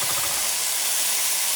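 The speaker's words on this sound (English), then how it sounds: "the steam goes up, but it remains on top a little bit. Cooking that egg" Steam hisses steadily under a covered pan in which an egg is cooking with a little added water, a broad, even, moderately loud rush with no break and no talking.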